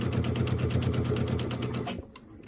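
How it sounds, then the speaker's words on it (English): A sewing machine chain-pieces quilt fabric in a fast, even run of stitches, close and alone, halting abruptly near the end. "I'm going to sew a little bit off the fabric so that I can cut those pieces apart."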